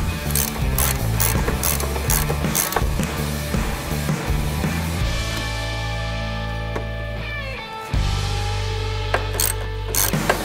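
Screws are snugged up on the fairing of an Indian Challenger motorcycle with a ratchet, giving rapid close clicking that runs in bursts over a steady low hum.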